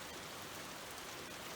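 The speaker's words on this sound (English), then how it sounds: "here it starts raining again now" Steady rain falls outdoors as a dense, even hiss of drops, continuous and fairly close with no break.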